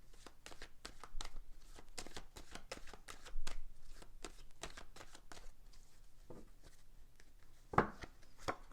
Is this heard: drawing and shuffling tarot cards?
yes